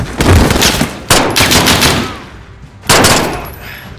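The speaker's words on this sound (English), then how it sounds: "I'm tracking you. How? The gunshots, of course." Rapid automatic gunfire bursts in Call of Duty Modern Warfare, loud and close, coming in three sustained volleys separated by brief lulls.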